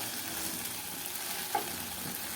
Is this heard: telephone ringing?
no